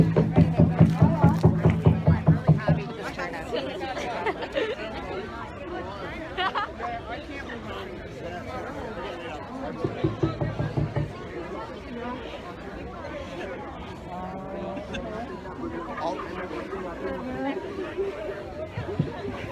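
A crowd murmurs after a Black Lives Matter rally in Sydney, Nova Scotia, overlapping voices forming a steady babble of chatter throughout, with a few nearer voices rising above it.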